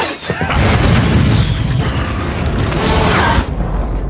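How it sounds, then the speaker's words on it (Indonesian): A huge mothership exploding in a sci-fi space film scene, a loud sustained rumbling blast with dense crackling debris that holds steady for several seconds before cutting off abruptly. "menyebabkan pesawat induk ini meledak"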